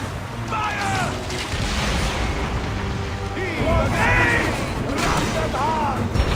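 Cannon fire from a ship in Assassin's Creed Origins booms amid continuous loud battle noise, with shouted voices over the rumbling barrage.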